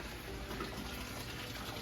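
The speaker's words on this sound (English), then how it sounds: "I got a tank over here that the water's dropping into." Water dropping steadily into a tank in a backyard aquaponics garden, a continuous soft splashing and gushing wash with no talk.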